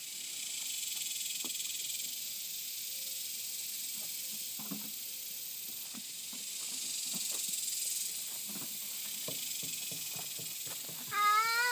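Cat up in a tree giving a series of scattered, faint meows and soft hisses over a steady background hiss, with a sharper cry near the end.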